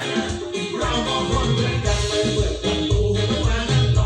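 Loud music plays through a 15-inch speaker cabinet with boosted, heavy, thumping bass filling the low end, continuous and close for the whole stretch.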